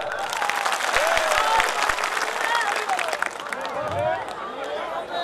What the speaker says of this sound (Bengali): জ্যোতির্ময়ের জন্য একটা হাততালি